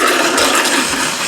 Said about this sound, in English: When I turn the water on, it should expand, it'll seal off the entire pipe